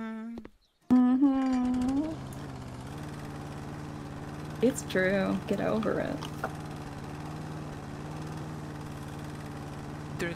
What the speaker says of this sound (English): Doing some initial mowing here to try and clean up the exterior.